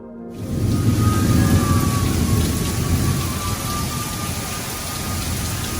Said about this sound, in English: Have a crazy rainstorm to enjoy the festivities during a pandemic.